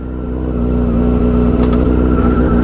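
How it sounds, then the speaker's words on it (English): A Yamaha R6 sport motorcycle engine running loud and close just after starting, with a steady rough mid-pitched idle that builds slightly in level. "let's see if the R6 will start"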